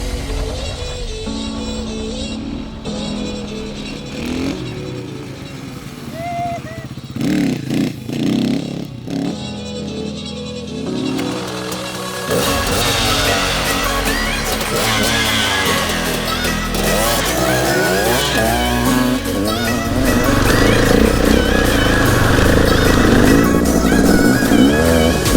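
A motorcycle engine idles and revs, then grows louder and rougher as the bike pulls away and rides on.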